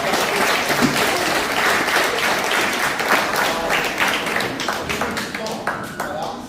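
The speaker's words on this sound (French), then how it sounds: "On peut l'applaudir." Sustained applause from the audience at a kickboxing club's general assembly, dense clapping filling the room for the whole stretch, with voices mixed in underneath.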